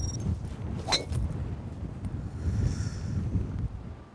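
Gusty wind buffeting the microphone at Springfield Golf Resort on a blustery day, low rumbling gusts rising and falling with a brief whistle, no voices.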